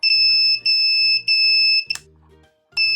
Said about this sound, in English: you will notice that the LEDs are blinking one after the other and siren from the buzzer is coming